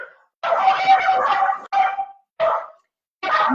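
Several pet dogs barking indoors during a livestream, loud close bursts: a long run of rapid barks, then shorter separate volleys with brief pauses between.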